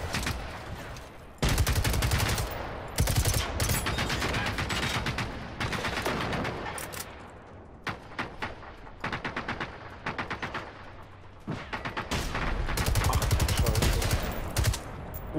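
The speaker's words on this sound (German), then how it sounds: "wer schießt denn da auf mich?" Gunfire rings out in the video game Generation Zero: rapid bursts and volleys of shots, loud and close, separated by brief pauses, with occasional faint speech between them.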